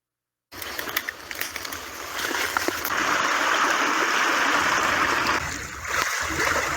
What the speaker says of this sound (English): There's a huge rupture under the water.